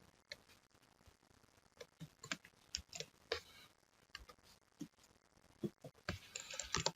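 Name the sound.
typing on a computer keyboard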